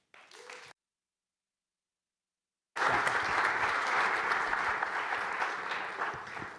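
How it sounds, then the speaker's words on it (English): A brief faint sound is followed by two seconds of silence, then an audience at an arts and entertainment industry forum bursts into loud, warm applause that continues steadily and fades slightly toward the end. "give a warm round of applause for Mr. Jonathan Pierson."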